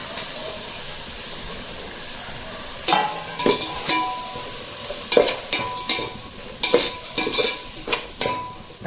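Tomatoes frying and being stirred over high flame in a pan for Rotu kada style beef biryani, with a steady sizzle and a run of loud scraping stirs in the second half.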